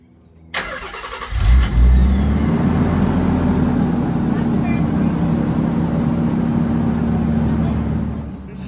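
A Nissan 300ZX twin turbo starts up and pulls away, with a sudden engine catch followed by a steady, loud, close mid-pitched drone that holds, then eases slightly at the end.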